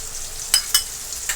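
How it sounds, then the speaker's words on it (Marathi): Ginger garlic paste fries in hot oil with tomato for a Kolhapuri-style chicken sukka, a close, steady sizzle broken by a few sharp stirring scrapes, with no one talking. "आता आपण अद्रक लसूणची जी पेस्ट आहे मगाशी जी मी तुम्हाला दाखवली ती टाकून घेणार आहे याच्यामध्ये."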